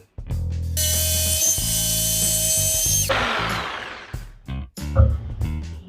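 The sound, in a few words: jigsaw cutting wood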